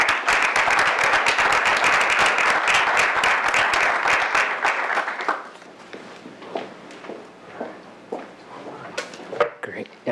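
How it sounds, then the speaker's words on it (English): A symposium audience applauds loudly for about five seconds, dense clapping that then breaks up into scattered claps, shuffling and movement in a room. "let's just give a round of applause to all the participants and all the organizers"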